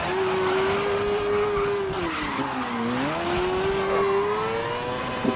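F1000 race car tires squeal and skid in a racing video game, a long sustained wavering screech over a continuous engine drone, loud and close.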